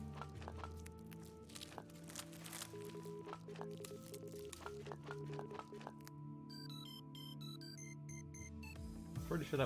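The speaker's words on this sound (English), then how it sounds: "Pretty sure that was a phone and not the game." A phone ringing in a room during a Skyrim game session, a faint electronic melodic ring pattern emerging toward the end beneath steady game ambience and background noise.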